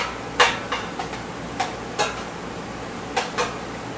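Metal tongs and a knife handle and cut through a cooked stuffed pork tenderloin, making a handful of sharp, separate clicks and scrapes spread unevenly over a few seconds against quiet kitchen background.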